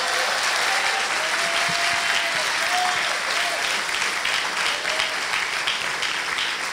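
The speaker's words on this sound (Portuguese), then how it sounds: "Pode aplaudir a Jesus." A church congregation breaks into sustained applause, a dense, even roar of clapping that holds steady throughout, with faint voices mixed in.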